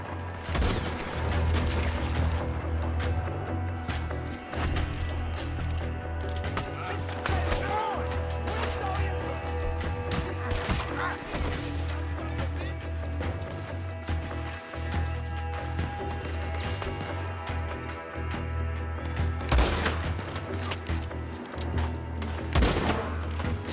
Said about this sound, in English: He's going for the Gatling. Look out, he's firing.